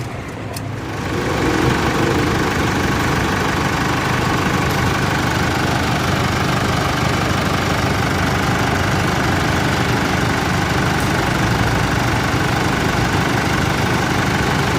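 Steady, loud engine idling just after an additive treatment was added, with a constant low rumble and mechanical rattle throughout, close by, with no talking.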